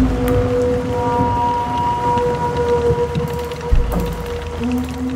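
Steady rain falling during a military retreat through mud, a constant wash of hiss under low tonal drones, with a brief thump near the end.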